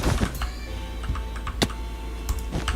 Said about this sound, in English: the sound of me pressing the shift key on this one